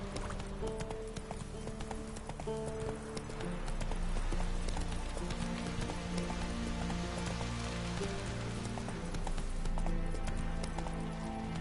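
Roach, a horse in The Witcher 3, gallops steadily in a rapid rhythmic clip-clop of hooves, close and continuous, over a wash of rain and ambient game sound.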